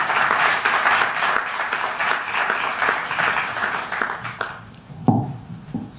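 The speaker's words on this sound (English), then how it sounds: "please, can you give another round of applause for Vidhu?" An audience at a community event in West London applauds warmly, a dense wash of many hands clapping that thins out and fades toward the end.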